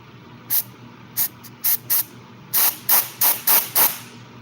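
A pump's brass injector jet spits liquid in short, forceful hissing bursts, about ten of them, some single and some in quick runs, loud and close with no voices.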